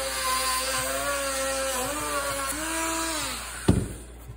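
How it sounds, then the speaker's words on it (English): A sanding wheel on a power tool whirs steadily at close range during repair work on a Ryobi 48V battery unit. Its pitch sags and recovers under load, then it winds down, ending with a sharp clunk. "I'm going to finish up a couple circles with this sanding wheel."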